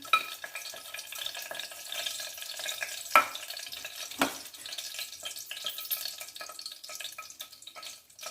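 Whole spices, cinnamon, cloves and cardamom, sizzle in hot oil for a mushroom pulao, a steady soft crackle with a few sharper pops and a brief clink of a utensil.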